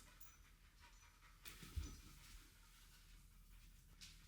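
A dog pants quietly after a big run around indoors, a faint steady breathing rhythm against low room noise with one brief louder bump partway through.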